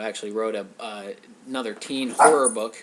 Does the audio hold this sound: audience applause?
no